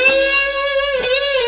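Distorted electric guitar playing the closing phrase of a riff: a held, sustained note, then a second picked attack shifting pitch near the end, loud and alone.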